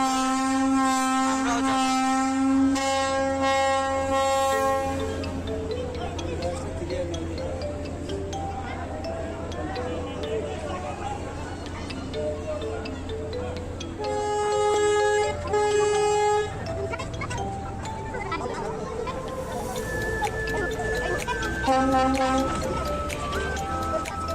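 Horn of a large passenger launch sounding as it departs a river terminal in Bangladesh, bound for Dhaka: loud, sustained tonal blasts repeated several times over a steady engine and crowd background.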